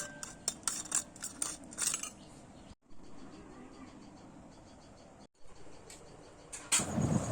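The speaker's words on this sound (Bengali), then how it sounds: "এখন আমি অল্প টক দই ফেটিয়ে নিচ্ছি।" Sour yogurt whisked in a bowl with quick, light clinks of a utensil against the sides, busy at first and then fading to faint background rustle, with a few more knocks near the end.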